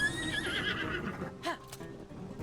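A horse in the video game Zelda: Tears of the Kingdom lets out a clear, loud whinny that trails off, with faint hoof clip-clop and game sounds around it.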